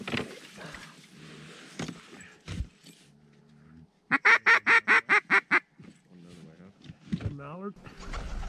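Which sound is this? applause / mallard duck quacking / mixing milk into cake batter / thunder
mallard duck quacking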